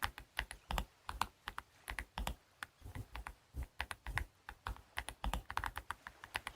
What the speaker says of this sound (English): I love the keyboard